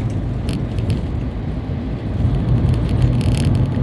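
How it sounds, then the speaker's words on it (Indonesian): An ALS intercity bus on the Medan–Malang route runs ahead on the Palembang–Jambi highway, giving a steady, loud road rumble of traffic and engine noise close by, with no pause throughout. "Ini bus ALS di depan kita."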